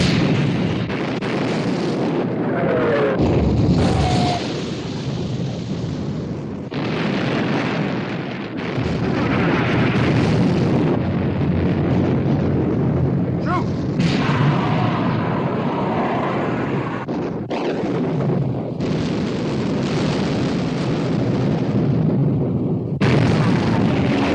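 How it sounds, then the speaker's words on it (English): In the 1960 war film, the battleships Bismarck and Prince of Wales trade heavy naval gunfire: loud booming blasts and a sustained roar that surge and fade across the scene, with voices heard among them. "Prince of Wales and Bismarck exchanging fire."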